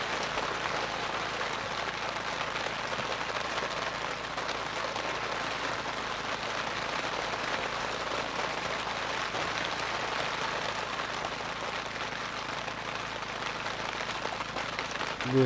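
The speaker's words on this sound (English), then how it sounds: "As the rain starts to fall here again." Steady rain falls over an outdoor ladies' Gaelic football match in Tipperary, a constant hiss of drops with faint crowd murmur, no clear voices.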